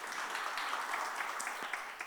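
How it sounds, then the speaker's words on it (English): Seminar audience on UAE corporate tax breaks into a short burst of applause, dense steady clapping from a crowd indoors, fairly faint and lasting a couple of seconds. "And a big round of applause for our first speaker, CA Harikishan Rangawat."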